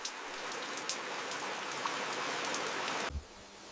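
Steady rain falls over a Swiss alpine village at night, a dense even hiss of drops with occasional louder splashes, continuous and fairly close, stopping abruptly near the end.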